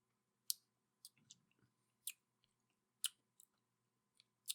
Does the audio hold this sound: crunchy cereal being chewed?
yes